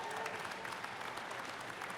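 Audience applause at an evening event honoring guests, a dense steady clapping from a crowd that stays at an even level throughout.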